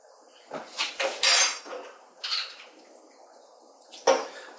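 A spoon scrapes and clinks around a mixing bowl as vanilla essence is stirred into cake mixture, several quick rattling strokes close by, then a pause and one last sharp knock.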